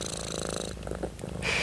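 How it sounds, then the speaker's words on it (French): A cat purrs close up, a soft steady rumbling that holds for the whole short stretch without any talk. "Tu ronronnes."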